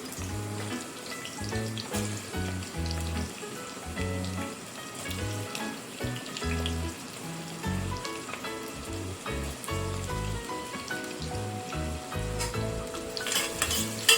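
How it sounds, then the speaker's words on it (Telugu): Chopped onions fry in hot oil for a mutton curry, a faint, continuous sizzle running beneath louder rhythmic background music throughout. "ఇందులో మనం ముందుగా కట్ చేసుకున్న ఆనియన్స్ వేసేసి కొద్దిసేపు మగ్గనిద్దాము."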